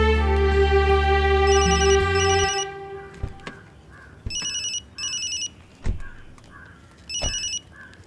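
A telephone rings in repeated bursts, with bright electronic trills at intervals over a film scene, alongside a few sharp knocks and softer background sounds; no one speaks.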